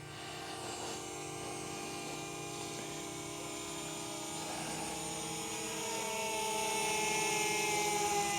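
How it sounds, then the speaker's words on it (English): DJI Mavic Mini drone orbiting in a circle quick shot, a steady high-pitched whining buzz of small propellers that slowly grows louder as it comes nearer, with no talking. "It did the circle flight and flew"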